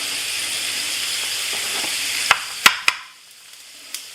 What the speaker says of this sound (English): we're just going to whisk some butter into our sauce.